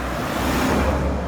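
A car passes close by on a road in a small town in Guadeloupe, a steady loud roadway rush with no voices.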